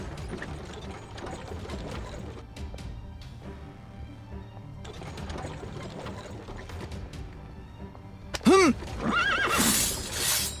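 A frightened horse whinnies loudly near the end, in a dubbed Chinese martial-arts action film, the sharp rising neigh breaking out over a busy background of rattling, clattering movement.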